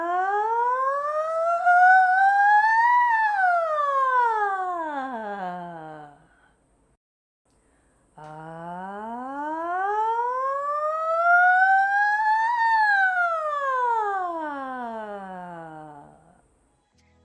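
Human voice sirens, two sustained vocal glides each sliding smoothly up and back down in pitch like a siren, separated by a short silence, sung alone and close as a voice therapy exercise.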